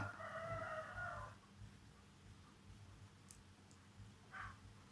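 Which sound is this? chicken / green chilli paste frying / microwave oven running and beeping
chicken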